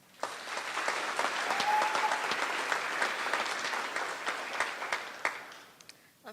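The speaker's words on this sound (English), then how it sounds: "Please give them a round of applause" A graduation ceremony audience applauds steadily, a dense wash of clapping that holds for several seconds at even strength before thinning out near the end.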